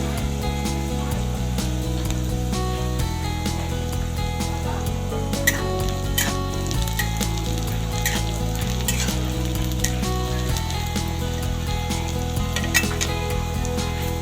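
Chopped onion with minced ginger and garlic sizzling steadily in a pan for a Bengali-style begun bharta, a constant close crackle with occasional clinks of stirring.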